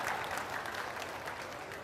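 Dense, continuous applause from an audience at a Hindi poetry gathering (kavi sammelan): a short, even burst of many hands clapping with no break.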